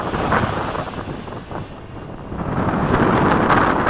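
Freewing 90mm F-104 RC jet flying in windy conditions, its ducted-fan whine rising and falling with a sustained rushing roar mixed with wind buffeting on the microphone.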